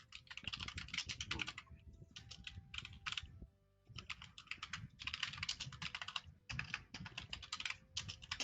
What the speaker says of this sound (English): The typing is ensuing.